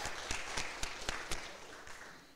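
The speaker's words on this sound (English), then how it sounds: "Let's give him a big round of applause." Applause from an audience at a college communication studies media showcase, heard faintly and at a distance as a soft wash of clapping with a few sharper individual claps standing out.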